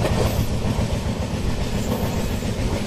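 The Golconda Express runs at speed near Cherlapalli, heard from on board as a loud, steady rumble of wheels and carriage noise with a faint rhythmic clatter and no break.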